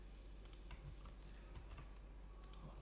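Keys tapped on a computer keyboard for a copy-and-paste shortcut, a few light, quick clicks scattered over a steady low hum, close and quiet with no voices.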